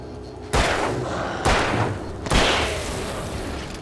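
Gunshots in the horror game Alan Wake, three loud booming shots spaced about a second apart, each with a long echoing tail, no voices over them.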